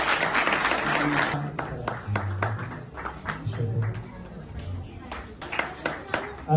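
A ceremony audience at a Hazara cultural celebration in Malmö breaks into dense applause that soon thins into scattered, irregular claps while a voice talks over them.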